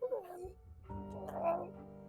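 A voice imitates a leech purring, a short low warbling rumble in two parts with a brief gap between them, soft and close.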